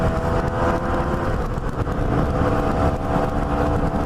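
A Yamaha DT motorcycle engine drones steadily while riding on a sunny day, a continuous close rumble with a broad wind-buffeted roar and no talking.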